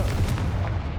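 Confringo blasting spell going off in Hogwarts Legacy, a sustained booming, rumbling blast with a dense low roar and a few brief crackling bursts over about a second, loud and close, no voices.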